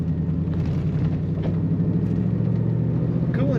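A 1956 Cadillac Eldorado Seville cruising on a highway, with a steady low engine rumble and road noise from inside the car, continuous and fairly loud.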